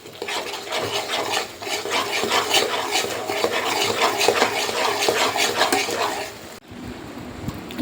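Chicken pickle being mixed in a pan, a steady close rubbing and scraping stir with a rhythmic, continuous texture for several seconds before stopping abruptly near the end.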